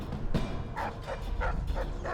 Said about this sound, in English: God, these dogs. They're everywhere.